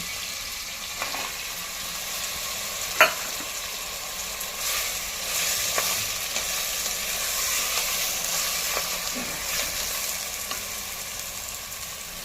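Cauliflower pieces sizzle steadily in a pan for pav bhaji, a soft continuous frying hiss with occasional scrape and stir clicks.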